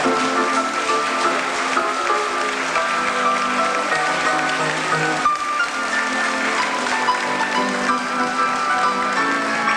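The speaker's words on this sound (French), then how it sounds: "on peut l'applaudir." An audience applauding a guest on a 1988 show, a continuous wash of clapping from a sizable crowd with steady musical tones running beneath it.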